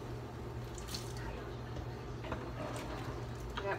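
Dishwater slowly draining from a kitchen sink while washing dishes in a tent, a faint low gurgle and trickle with a few small splashes, heard quietly throughout.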